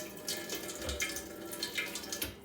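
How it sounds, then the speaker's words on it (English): Tap water runs steadily into a cooking pot being filled to brine a processed quail, a continuous close splashing rush with small bubbly fluctuations and no talk. "I'm filling the pot right now for the brining."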